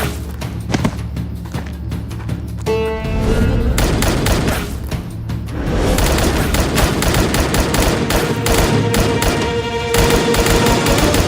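Rapid bursts of gunfire in a warrior battle scene, loud and dense, crackling almost continuously with heavy thuds and booms under them and brief lulls between volleys.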